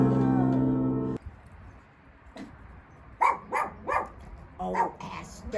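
A pet dog barks and yips several times, close by, after a gospel song at an outdoor concert fades out, with a person speaking quietly in the background.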